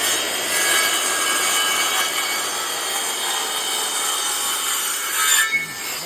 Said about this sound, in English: we're going to score this board really quick